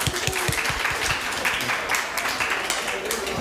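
An audience at a mobile gaming conference claps in sustained applause, dense irregular hand claps filling the room at moderate distance and staying fairly even before tapering slightly.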